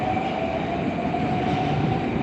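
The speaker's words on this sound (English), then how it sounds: "The train's leaving, it is 8 minutes 32 on the clock of the stream." A Moscow metro train leaving the station, with a steady loud rumble and rolling wheel noise under a faint high whine, heard close from the platform.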